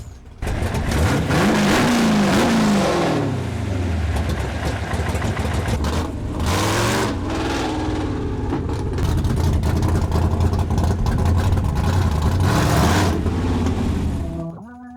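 A propane-converted hybrid car's engine revs up and drops back several times, loud and close, with steady engine drone between rises and a voice heard faintly underneath.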